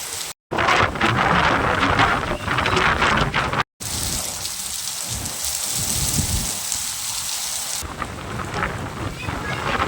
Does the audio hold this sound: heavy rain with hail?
yes